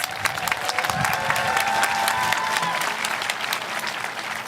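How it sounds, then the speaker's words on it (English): Sustained applause from a large crowd at a high school graduation ceremony, dense steady clapping with a few faint cheers, continuing throughout. "Please give them another round of applause."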